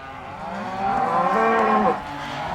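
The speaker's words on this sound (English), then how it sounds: "that was just a process of sorting the cows off from the calves" A cow or calf in a corral lets out one loud, drawn-out moo that swells in the middle and breaks off, with other lowing beneath it, close up.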